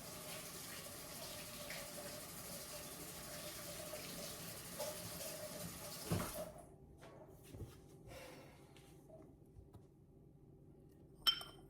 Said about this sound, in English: just wanna wash your hands